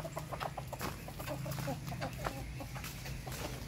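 Ducks and farm fowl cluck and call continuously close by, a busy chatter of overlapping short calls as feeding time nears, with outdoor farmyard background and no talking.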